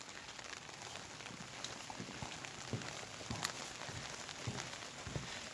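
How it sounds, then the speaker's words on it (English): Steady rain falling along a walking trail on a wet day in West Virginia, a continuous soft hiss with scattered drips and taps, fairly quiet and even throughout, with no voices. "It's just been a steady rain."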